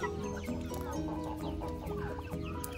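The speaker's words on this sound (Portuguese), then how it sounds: "As galinhas chegam a entrar dentro do lago pra comer a ração dos peixes." Chickens cluck beside a fish pond they wade into to peck at fish feed, a soft, scattered run of clucks at a moderate distance with no talk over them.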